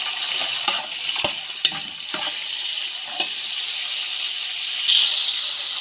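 Dried coconut and raisins fry in a pan with a steady, loud hiss and sizzle, broken by a few soft scraping stirs, and nobody speaks.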